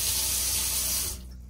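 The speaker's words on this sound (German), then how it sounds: "Er lässt das Wasser raus." Water rushing out of a sink drain in a faulty wastewater installation, a loud steady hiss of flowing water that drops away abruptly near the end.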